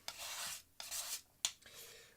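Earth pigment being mulled and scraped into a pile, with three close, gritty rasping strokes separated by brief pauses, followed by a sharp scrape.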